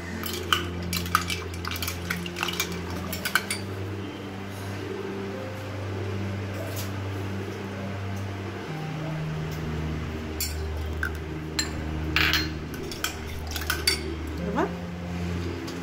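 A spoon stirs coffee liqueur in a glass while a coffee mojito is being mixed, giving light clinks and scrapes against the glass over a steady low kitchen hum.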